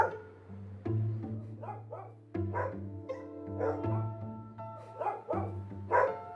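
Several big dogs bark in repeated bursts, some deep woofs and some higher yips, with a faint whine between them, close and fairly loud, and no talking.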